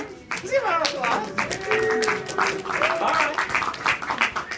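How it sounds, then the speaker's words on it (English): Audience applause at a university chemistry show, a dense run of clapping lasting several seconds with excited voices and chatter mixed in over it. "Give a round of applause."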